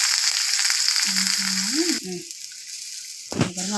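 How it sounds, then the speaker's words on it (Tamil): Onions fry in oil with mustard seeds, urad dal, curry leaves, chili and cinnamon, making a bright, close sizzle for about two seconds before it cuts away to near quiet. A steady low tone and a brief rustle follow. "வெங்காயம் வதங்கி சவுண்டா வெங்காயம் வதங்கிடுச்சு"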